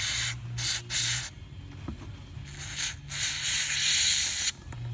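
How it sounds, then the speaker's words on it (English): Several bursts of hissing spray, short at first and then a longer sustained blast, close up with quiet gaps between. "Let's spray the other way just for the hell of it"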